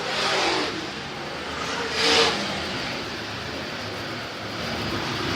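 Stock cars racing on a short oval track in Richmond, Kentucky, a continuous broadband engine roar with one car passing loudly near the two-second mark before the sound settles back to a steady drone.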